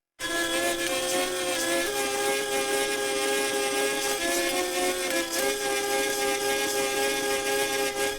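A small model wooden hurdy-gurdy drones in a sustained nasal buzz with a wavering melody line on top, steady and close, playing alone for several seconds.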